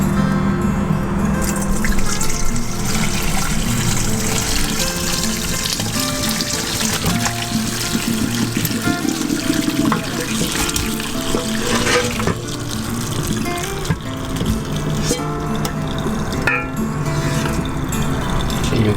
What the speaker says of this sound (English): So I'm just gonna dump this out and